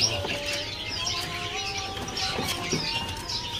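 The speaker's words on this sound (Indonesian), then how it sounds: "Di kios ini ada burung kepodang sungguh ya." A kepodang sungguh oriole calls from a cage at a bird market kiosk, giving sustained whistled tones with short chirps around them, fairly close, over a low background murmur.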